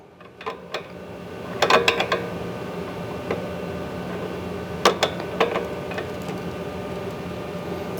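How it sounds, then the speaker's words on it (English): An adjustable wrench snugs an 18mm nut on a billet aftermarket front sway bar end link, giving small clusters of close metallic clicks and taps over a quiet garage background. "we're going to use the adjustable wrench to hold the body of the end link, and then just go ahead and snug that 18mm nut"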